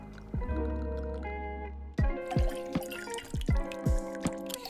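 Lime juice drips and splashes into a metal cocktail shaker tin, a few distinct ringing drops and short pours with a metallic resonance, close and clear, no talking.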